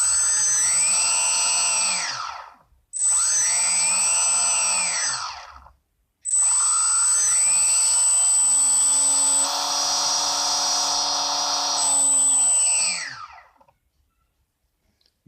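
Brushless electric motor of an RC plane mounted in the fuselage, throttled up three times: a loud, close, high whine that rises, holds and winds down, the last run longest and steady before cutting off, no speech.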